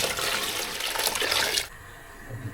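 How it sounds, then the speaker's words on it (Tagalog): Water is poured into a cooking pot of simmering papaitan, a Filipino bitter stew, a steady splashing pour lasting under two seconds before it stops abruptly and leaves a quiet kitchen. "Dagdag tayo ng tubig."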